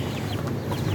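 A chicken clucks in short, soft bursts against a steady low farmyard background; it is fairly close and no one speaks.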